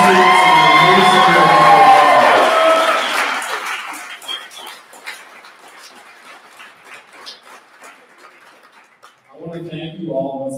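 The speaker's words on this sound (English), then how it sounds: "Can we get another round of applause for these amazing students and amazing" Audience cheering, whoops and applause for students at a capstone showcase, loud and dense for the first few seconds before fading into scattered clapping, with a voice returning near the end.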